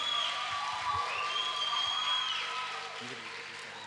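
Audience applauds senior dancers with steady clapping and some cheering, fading slightly toward the end of a short burst.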